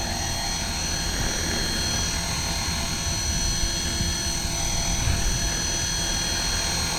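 A Trex 450 V2 clone RC helicopter in flight on its maiden flight, a steady loud rotor and motor whine with a constant hum that holds throughout, close to the listener with no talking.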